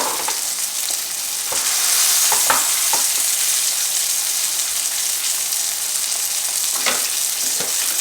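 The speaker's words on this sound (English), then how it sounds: "Sausages are cooking nice." Sausages fry in a pan for an egg and cheese muffin, a loud continuous close sizzle with a few sharp clicks and scrapes of a utensil against the pan.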